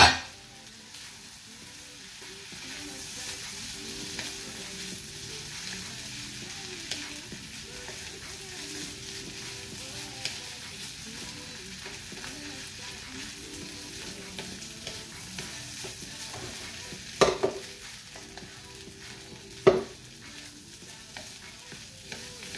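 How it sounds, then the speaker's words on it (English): Protein stir-fried in a skillet for spicy Thai basil fried rice gives a faint, steady sizzle throughout, with a couple of sharp utensil clanks near the end and no talk. "Now we're going to add our protein back to the skillet."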